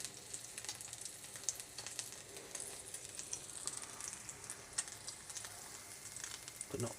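Pork sausages sizzle and fry in a pan, a steady faint crackle with scattered pops running throughout, no voices over it.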